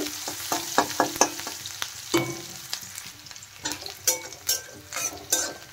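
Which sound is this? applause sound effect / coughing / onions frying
onions frying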